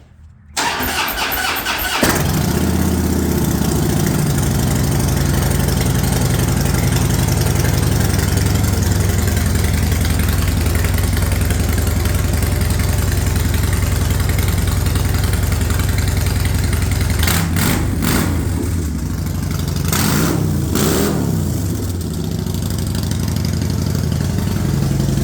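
A Harley-Davidson Shovelhead motorcycle engine cranks, fires up and settles into a loud, close, uneven idle, a continuous low rumbling throb with a couple of brief throttle blips later on.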